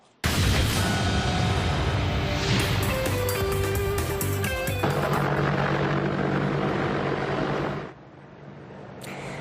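Apache helicopters hover outside a Nashville home, their loud, throbbing rotors and engine whine filling the air continuously and close before easing slightly near the end.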